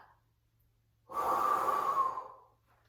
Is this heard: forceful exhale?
yes